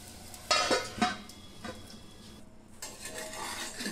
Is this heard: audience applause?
no